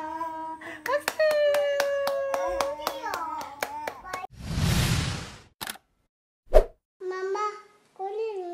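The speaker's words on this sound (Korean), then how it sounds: "박수." At a first birthday party, a child's sing-song voice is followed by a short burst of hand clapping, then a few sharp taps and brief speech.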